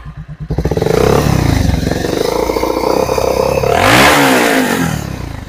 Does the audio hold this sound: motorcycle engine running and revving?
yes